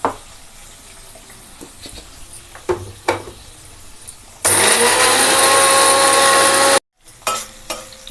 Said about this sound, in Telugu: ఈ మిక్సీ పట్టుకుంటానండి